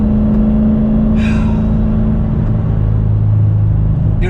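A Corvette Z06 rumbles at a low, steady drone while driving, a loud and constant engine hum from inside the cabin with faint road noise and a brief rustle.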